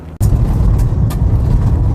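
A rally car's engine roars loud and close in a dense, steady low rumble, with a few sharp knocks cutting through.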